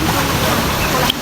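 Water of the Seti river in Pokhara flowing steadily, a broad rushing wash that holds loud and constant before cutting off abruptly near the end.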